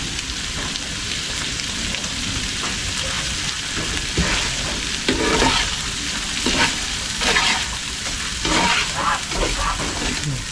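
Corned beef and rice stirred and fried in a pan, a steady close sizzle with repeated scraping strokes of a utensil against the pan surface, no talk.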